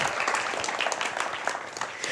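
An audience at a Pecha Kucha night in Trollhättan gives continuous applause for a singer, a dense wash of clapping from a crowd that holds steady throughout.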